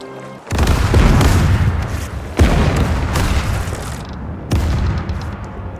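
Heavy ship cannons firing in the naval game Caribbean Legend, three loud booming blasts in sequence, each followed by rumbling roar and debris noise, with no talk over them.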